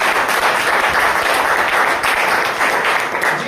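A crowd applauds company founders Dr. Ashok Bhatia and Satyan Bhati, a steady, dense wash of clapping that stays loud and even throughout without pause.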